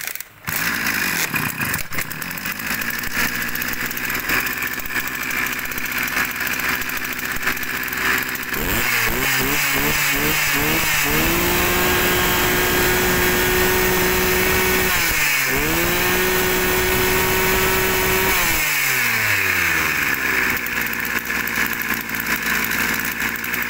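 A 30cc backpack engine machine runs loud and close, a steady buzzing drone that revs up and down several times in repeated surges.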